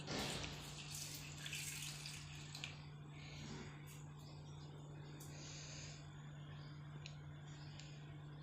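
Water poured over uncooked rice in a small bowl, a steady close splashing rush that starts loud and settles into a constant even flow, with a low hum underneath.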